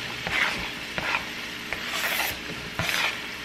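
Diced onion, celery and potatoes frying in a pan, a close sizzle broken by repeated scraping stirs of a utensil against the pan, with no voices.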